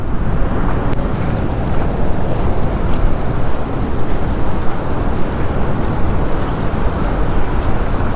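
Heavy rain pours steadily with a dense hiss of drops striking surfaces, loud and continuous throughout, no voices.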